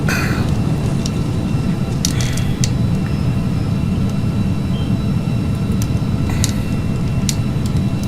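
A Falcon 50 business jet in a flight simulator takes off, giving a steady, loud low engine roar with a broad rushing hiss. Faint clicks and small ticks come through now and then.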